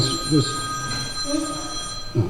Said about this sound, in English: That's my ringtone too. People of a certain age gotta have that ringtone. You gotta hear the phone.